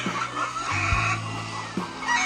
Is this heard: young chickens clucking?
yes